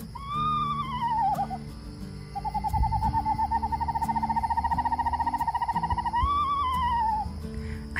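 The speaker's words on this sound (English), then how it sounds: "One of the ones you'll hear the most are screech owls." A screech owl calling nearby outdoors: a descending whinny opens, then a long steady trill of rapid even notes, closing with another falling whinny, clear and alone without speech.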